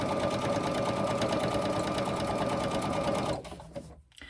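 A sewing machine stitches fabric for a box-shaped iPad case, running in a fast, steady mechanical whir at close range, then stopping abruptly and leaving scattered faint handling noises.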